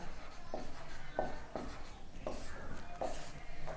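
Pen writing out a maths solution on paper, scratchy strokes and taps in short irregular bursts, close and fairly quiet.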